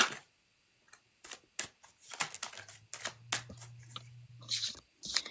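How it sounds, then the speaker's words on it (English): Tarot cards being shuffled close up, with a run of quiet, crisp flicks and riffles in irregular bursts separated by short pauses. "I'm shuffling for you."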